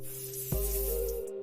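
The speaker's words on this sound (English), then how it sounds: "Ooh, hydrating body spray." A short hiss of hydrating body spray from an aerosol can, a single burst starting abruptly and holding steady for under a second, close and alone.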